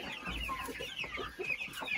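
A Brahma hen and other chickens cluck in a farm pen, a series of soft, close clucks and short calls over a low background hum, with no one speaking.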